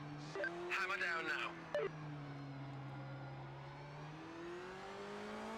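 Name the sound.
race car accelerating in video game Project Motor Racing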